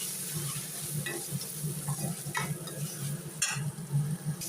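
Onion, fenugreek, curry leaves and tomato sauté in a pan for a Tamil lentil-dumpling curry, a steady close sizzle broken by repeated scraping stirs of a spoon, with no talking.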